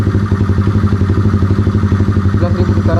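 A fuel-injected Honda CB motorcycle engine, not yet remapped, held at its maximum RPM, a loud, steady, buzzing high-rev drone with a fast pulsing throb, close and constant throughout.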